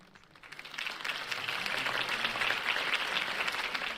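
Crowd applause in a video game after Harvey Dent's campaign speech, swelling from a quiet start into steady, dense clapping that holds for several seconds, with no voices heard.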